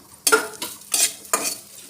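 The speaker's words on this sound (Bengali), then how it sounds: "কয়েক কোয়া রসুন ভেজে নেব আর পেঁয়াজ ভেজে নেব।" Garlic cloves and onion fry in a little oil for Afghani paneer, heard as three short bursts of sizzling and stirring close by, with quiet gaps between them.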